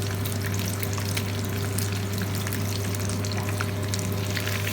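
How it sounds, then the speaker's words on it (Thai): Fish frying in a wok of hot oil for a Chinese restaurant-style dish, a steady, dense sizzle and crackle that stays loud and even throughout with no talking. "เราจะทอดให้มันแข็งตัวตรงข้างล่าง"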